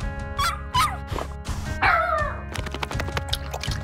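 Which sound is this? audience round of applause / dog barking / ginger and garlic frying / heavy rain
dog barking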